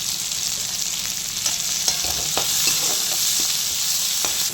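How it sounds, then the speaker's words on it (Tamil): Onion and tomato frying in oil with turmeric for a mixed vegetable poriyal, giving a steady loud sizzle with occasional sharp clicks of stirring, close by and with no talk. "மீடியம் சைஸ் வெங்காயம் ஒரே ஒரு வெங்காயம் அதையும் போட்டு நல்லா பொன்னிறமாக ஃப்ரை பண்ணணும்"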